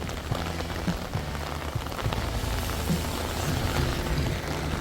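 Heavy rain pours steadily outdoors on a festival day in Germany, a dense, constant hiss of drops drumming on surfaces with no voices.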